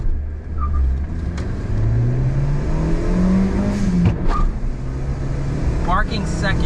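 A Honda Acty kei truck's engine revs up under acceleration, a loud steady rumble climbing in pitch as it pulls, while people talk over it inside the cab.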